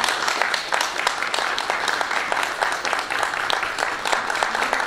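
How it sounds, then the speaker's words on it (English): Sustained applause from a large audience at a university graduation ceremony in Manchester, dense steady clapping filling the hall throughout with faint voices underneath. "Clap it loud, please."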